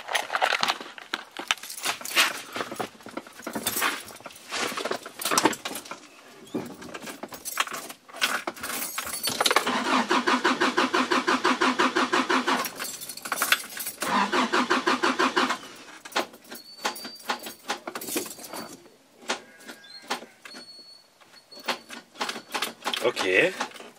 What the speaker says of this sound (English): Time to fail at starting this vehicle about 15 times.